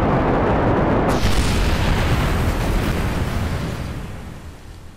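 A crashing rocket explodes in Kerbal Space Program with a loud, roaring broadband blast that swells abruptly and then rumbles on, slowly fading over several seconds with no voices.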